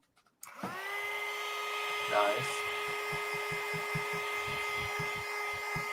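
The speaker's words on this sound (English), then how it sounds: "you want to hear my heat gun?" A heat gun switches on with a click and blows a steady, whining rush of air close by, while a voice briefly speaks over it.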